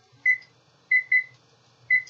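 Kitchen timer set while bacon cooks, giving four short, clear electronic beeps in an uneven pattern, two close together in the middle, over a faint low kitchen hum.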